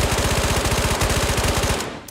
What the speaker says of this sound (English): It's a lot of gunshots.